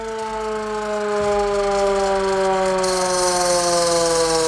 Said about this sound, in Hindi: गोरों के ज़माने का है, हाथ से चलाते थे तब का ये।